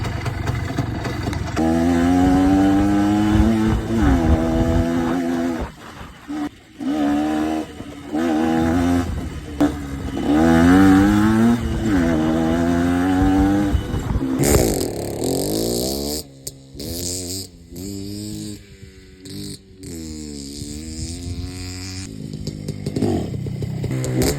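A tuned Minsk-125 motorcycle's small two-stroke engine runs loud and close, its buzzing tone repeatedly rising and falling with sharp revs, then settles into a rougher, choppier idle with irregular bursts.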